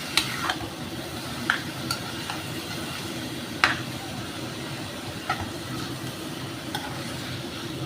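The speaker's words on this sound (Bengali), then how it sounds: "একদম ডালের সাথে লাউটাকে ভালো করে মিশিয়ে দিচ্ছি" Bottle gourd being stirred into mung dal in a pan over medium-low heat, a steady soft sizzle broken by scattered sharp spoon scrapes and clinks, close and alone.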